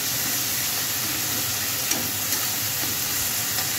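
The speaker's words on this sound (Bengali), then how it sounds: "এবার এই মশলাটা কষা হয়ে আসলে" Spice masala sizzling and frying in a pan, a steady soft hiss with faint occasional ticks, heard close and alone.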